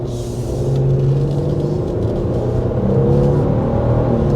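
A 2024 Lexus GX 550 Overtrail+ SUV pulling away under relaxed throttle, with a steady low engine drone and a gentle rise in revs inside the cabin, heard alone without talk.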